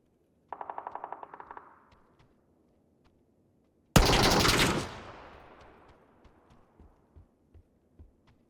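A rapid burst of automatic gunfire in PUBG, then a single loud blast that rings out and decays, followed by scattered faint clicks and thuds.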